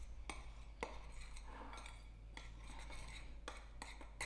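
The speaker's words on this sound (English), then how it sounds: "Just give this a quick mix." Cake batter for a Madeira cake is mixed in a bowl, giving faint repeated scraping and clinking strokes of a utensil against the bowl over a steady low hum.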